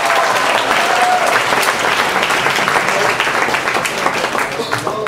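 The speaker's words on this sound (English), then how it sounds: "Round of applause." A room of people claps after a group guessing game, with dense, steady applause filling the space at close range for several seconds and no speech over it.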